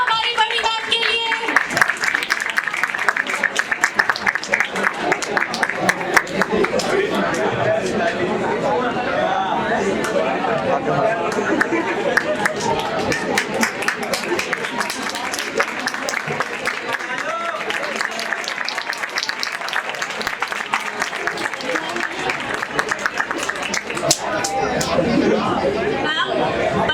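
Audience at a 2022 school function applauding the head teacher, with loud sustained clapping and cheering mixed with crowd chatter throughout.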